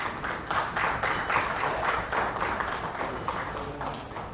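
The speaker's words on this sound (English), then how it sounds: "A big round of applause, please." An audience at an awards summit applauds an award winner, a dense, steady wash of many hands clapping with a faint rhythmic pulse, moderately near and without talk.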